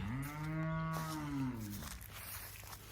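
A dairy cow at a farm selling cows gives one long, drawn-out moo lasting about two seconds. The call is close and clear over faint background noise.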